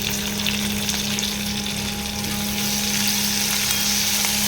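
Onions salted in hot oil fry with a loud, continuous sizzle that stays close and even throughout, without voices.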